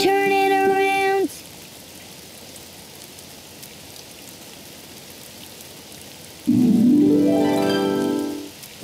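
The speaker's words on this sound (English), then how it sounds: "Oh, it's raining outside." Steady rain falls in the children's game Daniel Tiger's Neighborhood Spin and Sing, a soft even hiss between two bright bursts of game music and chimes at the start and near the end.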